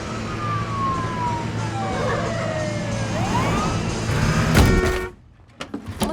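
Ambulance siren from a movie scene wails with a falling then rising sweep over traffic rumble, rising louder before cutting off abruptly, followed by brief scattered knocks.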